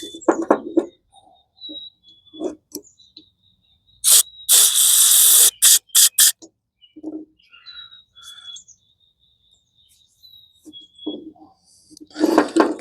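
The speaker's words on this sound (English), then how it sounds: "Get that gasket out of there before I get that soaked with carb cleaner." Carburetor cleaner is sprayed into a self-propelled lawn mower's carburetor: a loud two-second hissing burst, then several short sharp spritzes, amid quiet clicks and handling noises close by.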